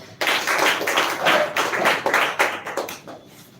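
Audience clapping for a student walking to the podium at a speech competition, a brisk burst of many hands that starts abruptly, holds steady, then tapers away.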